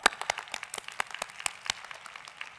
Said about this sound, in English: Please welcome me again in giving them a big round of applause